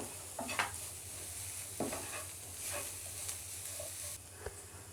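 Onion samosa filling with chili and salt being stirred in a pan, with a soft steady sizzle and a few scattered scrapes of the spoon, fairly quiet and without talk.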